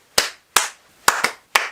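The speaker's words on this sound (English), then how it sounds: "Another popular way is the rhythm clap." A teacher's rhythmic clapping pattern used to quiet a classroom: five sharp, close claps, two spaced single claps followed by a quick pair and another quick pair, loud and alone with no voices.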